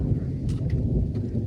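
Thunder rumbles low and steady during a light rain, forming a continuous deep roar with faint patter above it and no voices.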